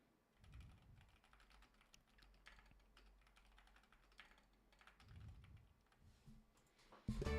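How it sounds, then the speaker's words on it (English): Quiet, close keyboard typing comes in uneven bursts of clicks with pauses between them, ending in a louder clatter. "I'm so bad at typing."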